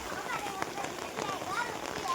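Steady rain falls outdoors in Kutch, a continuous soft hiss with scattered patter, with voices talking nearby.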